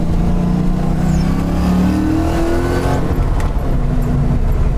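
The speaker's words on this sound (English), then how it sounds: "Going into second gear here." A 1991 Ford Mustang LX fox body pulls hard from inside the cabin with the windows up, its engine note climbing, then dropping sharply at a gear change into second and building again.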